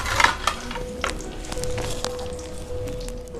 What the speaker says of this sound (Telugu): ఇప్పుడు మళ్ళీ మిగిలిన వంకాయలు కూడా ఇదే విధంగా వేయించుకుందాం